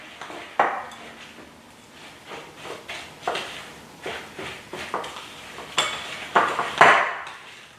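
A metal spoon stirs and scrapes cake batter around a bowl for a Sock It To Me cake, with repeated knocks and clinks against the sides, close and fairly loud.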